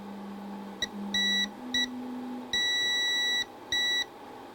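A Tronxy Mini resin 3D printer gives a series of short electronic beeps after play is pressed, with a low motor hum as it homes; the tones come in several bursts of differing length.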